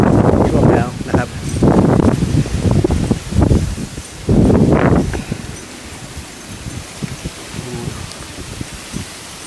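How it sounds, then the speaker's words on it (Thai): Strong storm wind tears through leaves in loud gusting bursts over the first several seconds, then eases to a softer steady rustle, with someone talking over it. "นี่ครับแรงลมนะฮะแรงลม"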